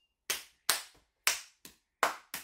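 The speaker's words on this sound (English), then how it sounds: "you've got to clap your hands together as hard as you can" Six sharp hand claps at an uneven pace, each a loud close smack with a quick decay, as a child at a magic show claps together as hard as possible; no talking.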